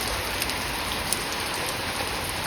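Heavy rain pours down steadily on a village in Botad, a dense, even hiss of drops striking surfaces, fairly near and continuous, with no voices.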